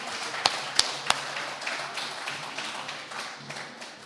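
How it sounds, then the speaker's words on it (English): Audience applauding at a ceremony handing a farm primary school and clinic over to the Republic of Namibia, with a few sharp close claps at the start before a softer, scattered round of clapping continues throughout. "let's give another round of applause,"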